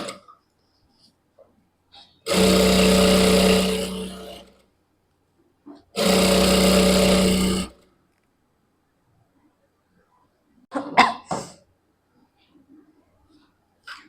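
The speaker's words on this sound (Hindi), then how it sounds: "यहाँ से हम सिलाई लगाएंगे" An electric sewing machine stitching a lehenga belt runs in two long steady whirring bursts of about two seconds each, close and loud, followed by brief clicks and handling noises in otherwise quiet surroundings.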